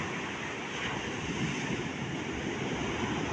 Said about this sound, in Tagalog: Sobrang lakas po ang alon mga idol.